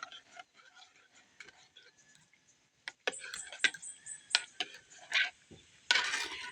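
A spoon swirls and taps inside a cup of tea, with a string of light clinking ticks that grow louder and denser partway through, near and close-up.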